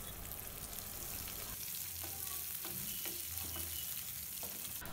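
Chopped onion frying in hot oil with tempering spices, a close, steady sizzle with stirring scrapes and light clinks throughout, no voices.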